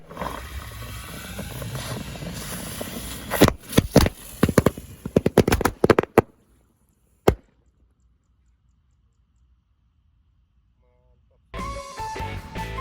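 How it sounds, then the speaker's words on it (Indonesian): Lotus firecrackers set off inside a water gallon crackle in a rapid burst of sharp pops, followed by a single late bang, a long silence, then background noise returning. "Menyalakan banyak sekali mercon dan petasan."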